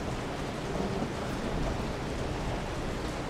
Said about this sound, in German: Und der obligatorische Donner.